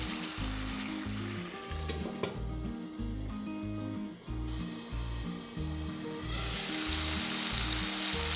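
Mash daal (urad lentils) simmers in a pan over a medium flame, giving a continuous soft sizzle broken by faint clicks and scrapes, close by and with no voices.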